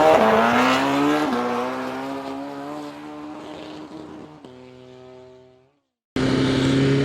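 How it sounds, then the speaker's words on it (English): A white aluminum BMW M1000R Competition motorcycle revs hard, its engine whine sliding down in pitch and fading before a short silence, then roaring back loudly at the end. "on my Bmw M1000R competition in white aluminum"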